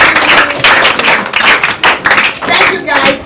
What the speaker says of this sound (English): Clap for David!